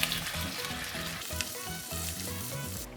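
Taro cake mixture with fried shallots, salt, light soy sauce and oyster sauce frying in a pan, a steady close sizzle with faint stirring clatter, no talking.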